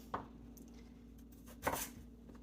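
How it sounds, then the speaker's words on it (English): Carrots are chopped with a knife, giving two separate, sharp thuds on a cutting board, close and moderately loud over a quiet kitchen hum. "I was chopping my carrots"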